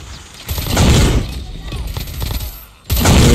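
FFAR-1 assault rifle fire in Call of Duty, loud close bursts of rapid automatic shots in two volleys separated by a brief lull, with a voice talking over the gameplay.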